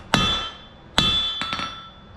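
Hot metal is struck on an anvil at a forge, giving two sharp ringing blows followed by a pair of lighter taps, each with a bright metallic ring that fades quickly.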